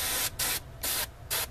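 Spray primer hisses from a can onto a plastic model kit in three separate bursts, each lasting about a quarter second and broken by short pauses, close and steady with no talk.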